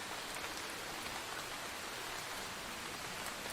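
Steady rain falls in a soft, even hiss with no break in it, fairly faint and with no voices or other sounds.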